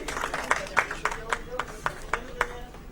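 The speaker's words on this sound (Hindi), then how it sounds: "तालियों की गड़गड़ाहट लगातार आप सबकी तरफ से मिलती रहे" Applause at a 'Press se miliye' press-club event in Jaipur, heard as a run of sharp, fairly evenly spaced claps at moderate distance with a speaking voice over them.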